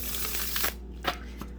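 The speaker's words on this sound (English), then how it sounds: "let me get a couple of shuffles going on in here" A brand-new tarot deck being shuffled by hand, a soft flurry of riffling card edges followed by a few quick separate snaps and taps, close and fairly quiet.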